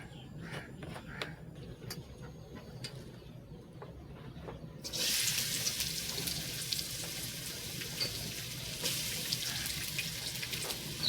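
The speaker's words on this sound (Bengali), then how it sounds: "হালকা করে পেঁয়াজটা ভেজে নিয়েছি" Onions fry in oil in a wok, starting with scattered crackles and then rising into a loud, steady sizzle that continues to the end.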